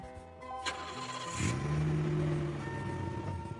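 A car engine cranks and starts, then settles into a steady idle. There is a short burst of cranking, followed by a louder catch and a sustained mid-pitched hum, heard alone and fairly close.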